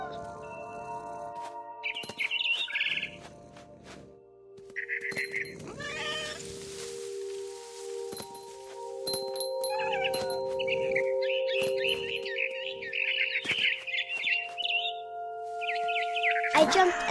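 Cat meows in the video game What Remains of Edith Finch, several short calls and trills scattered across the scene alongside bird chirps and ambient game music.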